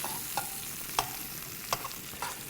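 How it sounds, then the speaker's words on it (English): Garlic and calamari searing in a pan, a quiet background sizzle broken by four sharp scraping clinks of a utensil stirring at irregular intervals, close but soft, with no talking. "So now we have the garlic cooking here"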